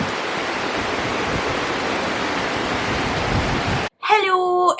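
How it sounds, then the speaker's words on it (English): Steady rain hisses as a dense, even wash of noise for several seconds, then cuts off abruptly and a voice begins speaking. "It's just raining."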